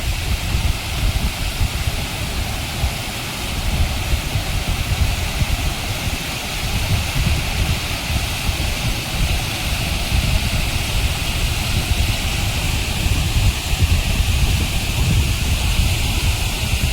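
A village river tumbles and gurgles as its water falls, making a loud, continuous broadband rush with a rumbling low end that never lets up, heard nearby and alone without speech.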